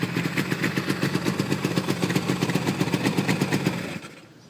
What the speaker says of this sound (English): This two-stroke sounds so good.